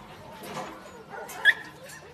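A purebred Kunming dog gives a few short, quiet whimpers and yips, with one brief sharper cry standing out midway through a couple of seconds of low background noise.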